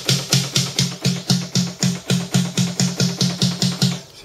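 Reverb-free snare drum track for a metal mix, Steven Slate drum sampler: a steady, fast run of about sixteen sharp, evenly spaced hits, each short and punchy, with no lingering ambience.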